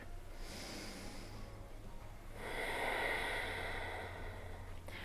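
A slow, audible breath during yoga practice, a soft airy exhale swelling through the middle of the clip and fading out, close and alone without talk.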